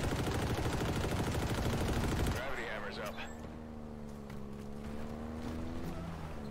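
A dense, continuous roar of gunfire and engine noise from a Halo Infinite match cuts off abruptly, then gives way to a quieter vehicle hum with faint scattered shots.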